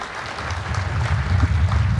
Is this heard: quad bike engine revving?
no